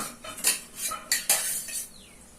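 Metal kadai pan set down and shifted on a lit stove, a few close clanks and scrapes of metal on metal in quick succession, no talking.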